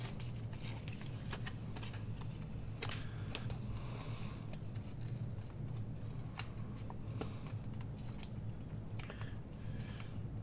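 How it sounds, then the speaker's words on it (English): Paper flower being fussy cut by hand from scrap paper for scrapbooking, heard as faint, close crinkling and tearing rustles in uneven bursts over a quiet hiss. "fussy cut with our fingers"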